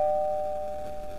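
In a horror video game, a doorbell rings with a single sustained, clear electronic chime tone that slowly fades, heard alone.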